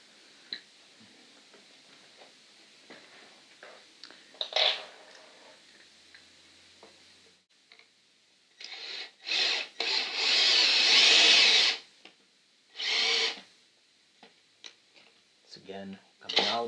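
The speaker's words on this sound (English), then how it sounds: "We're drilling or installing the screws on this one." A power drill drives screws into prefabricated sauna wall panels during indoor assembly, with several short bursts and one longer whirring run, separated by quiet handling sounds.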